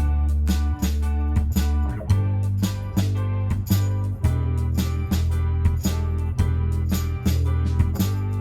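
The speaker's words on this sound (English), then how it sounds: "And our hook altogether sounds like this." A full pop song hook plays: drums, shaker, tambourine and claps over sustained flute and piano parts, dense and steady with a regular percussive pulse running throughout, no voices.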